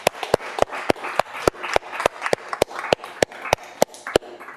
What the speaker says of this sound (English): Might give Nick a bit of a round of applause